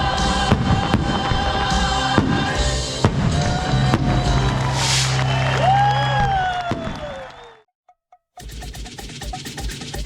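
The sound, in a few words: fireworks show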